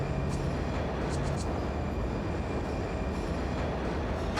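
A train passes through a station where mechanics work on the track, giving a steady, loud rumble of rolling rail cars with faint wheel squeals near the start.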